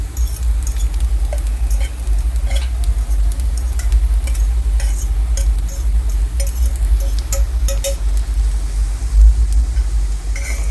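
Ground cabbage fries in a hot pan with ginger-garlic paste, giving a constant crackling sizzle, frequent metallic clinks and scrapes of a utensil, and a low rumbling hum underneath.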